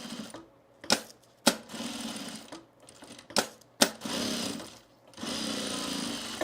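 Sewing machine stitching the seams of a homemade travel bag, running in several bursts of steady whirring broken by sharp clicks and short pauses, close and fairly loud.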